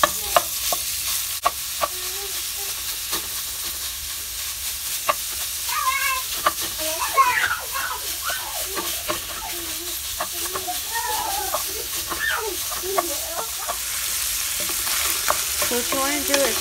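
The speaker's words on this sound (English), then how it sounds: "And now with the wooden spoon, just mash it all up and cook until it's done." Breakfast burrito filling with onion frying in a pan while a wooden spoon mashes and stirs it, giving soft steady sizzle with scattered scraping and tapping strokes, moderately quiet throughout.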